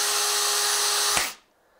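A Parkside Performance PSBSAP 20 Li B2 cordless impact drill driver whines steadily at high speed, then cuts out abruptly with a brief jolt as it kicks and shuts off, followed by near silence.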